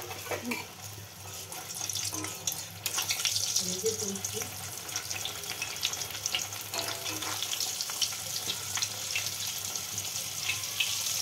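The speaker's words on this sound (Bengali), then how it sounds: "আমি এবার দেখো তেলে ছেড়ে দিলাম" Moong dal kachori frying in hot oil, a steady broad sizzle and bubbling hiss running throughout at moderate level, with faint voice underneath.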